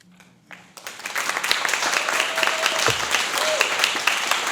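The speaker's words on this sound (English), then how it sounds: "let's hold the clapping, please" Audience at a York County Council meeting bursts into sustained applause after a public comment on dog welfare, a dense wash of clapping swelling quickly and holding steady throughout.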